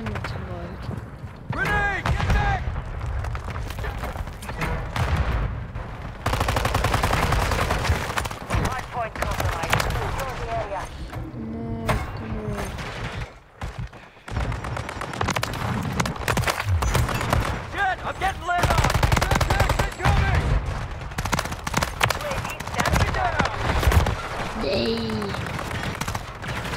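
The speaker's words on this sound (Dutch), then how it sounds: "Oh, hij schiet 3 kogels" Gunfire in Call of Duty Modern Warfare 3 in Warzone, repeated bursts of rapid shots and mechanical weapon clatter running nearly nonstop at close range, with someone talking over it.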